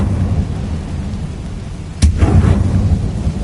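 Fire spell cast in Hogwarts Legacy, a sudden loud burst erupting midway and trailing into a rumbling, crackling roar over a steady low background, with no talking.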